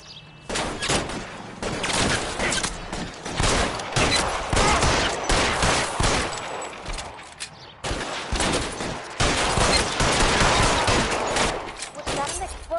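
Rapid, sustained gunfire in the crime video game L.A. Noire crackles loudly and almost without pause, dense overlapping bursts like a firefight, briefly dropping out once before resuming.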